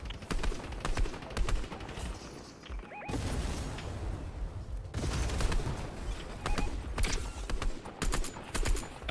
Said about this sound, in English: Oh, I'm getting shot on the left.